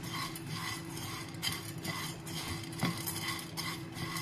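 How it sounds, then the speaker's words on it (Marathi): Roasted chana dal (dalva) is dry-roasted and stirred in a pan, giving repeated scraping and clinking of a spoon against metal with the rustle of dry lentils, steady and close, with no talking. "थोडासा रंग बदलेपर्यंत असं खमंग हे डाळं भाजून घेऊया।"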